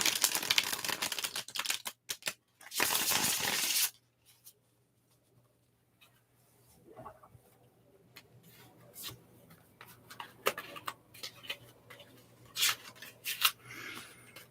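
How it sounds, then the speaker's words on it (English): Tarot cards riffle and shuffle in short bursts, with a couple of loud flurries early, then softer taps and slides of cards in a quiet room. "as I shuffle the cards"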